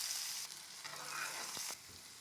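Chopped onions and cumin seeds sizzle in hot oil in a pan, a steady close hiss of frying with a few stirring clinks, no voices.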